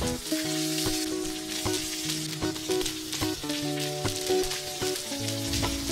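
Butter and cooked milkfish sisig sizzle and crackle steadily on a hot sizzling plate, a dense continuous hiss close up, with a faint musical tone running underneath.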